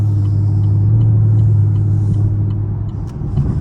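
A Chevrolet Camaro SS V8 at night, heard from inside as a loud, steady low engine rumble with a droning tone, easing slightly during an automatic downshift.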